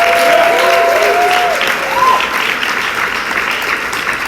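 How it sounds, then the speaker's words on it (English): A prom crowd gives a long round of applause, loud and sustained, with cheers and whistles rising above the clapping early on before it settles into a steady roar. "let's give one final round of applause for the impact that we are going to make"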